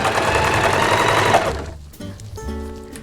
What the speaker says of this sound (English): then I'm going to zigzag all along there